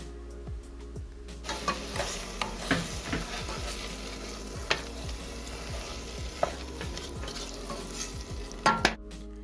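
Mild chunky salsa is mixed into a cooking pot with a spoon, making repeated scraping and clacking stirring strokes over a faint steady sizzle.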